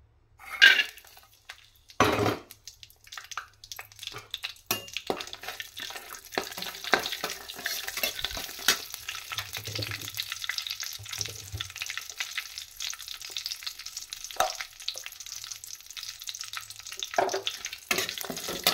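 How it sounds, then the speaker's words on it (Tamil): Hot oil sizzles and crackles as dried chillies and cashews are tempered in a pan, with stirring clatter and a few louder bursts, no talking. "இந்த 2 காஞ்ச மிளகா வாசனைக்காக, இதில் கொஞ்சம் முந்திரி இது போட்டு தாளிச்சிக்கலாம்."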